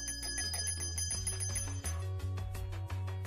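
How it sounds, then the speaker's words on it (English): A real bell is struck repeatedly by a motor driven from an Arduino motor shield, producing bright metallic rings with sustained overtones in a quick, uneven series, heard close with no speech. "You could add a motor shield and ring a real bell."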